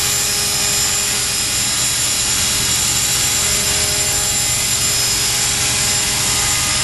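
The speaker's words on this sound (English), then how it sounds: "Just don't get too close to the helicopter" A small TREX 450 model helicopter flying indoors, its rotor and motor whining steadily and loudly at close range, a constant high buzzing drone with no pauses.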